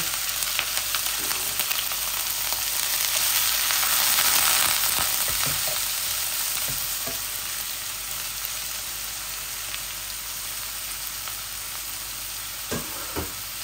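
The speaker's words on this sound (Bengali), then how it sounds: "এই আমার জিরাগুলা আর রসুনগুলা লাল হয়ে গেছে। আমি অনিয়ন দিয়ে দিচ্ছি।" Onion goes into hot oil with browned cumin seeds and garlic, setting off a loud, continuous frying sizzle with occasional stirring clicks and scrapes, and nobody talking.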